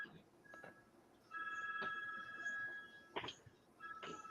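A telephone rings in a workshop, steady electronic tones cutting in and out at moderate volume with a few knocks and clunks in between.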